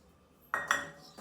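A cooking pot used for poha and vegetables is handled with utensils in a home kitchen: a couple of sharp metallic clanks and a clink of lid or cutlery against the pot, close and alone after a quiet start.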